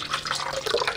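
Water is poured into a blender cup over eggs and whole milk while crepe batter is mixed, a steady close splashing trickle lasting about a second.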